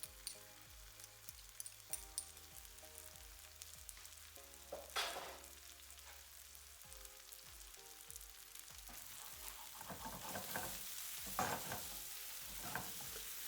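Chopped rosemary and garlic sizzle and fry in a pan, a steady quiet crackle with occasional stirring scrapes and soft clinks that grows louder toward the end.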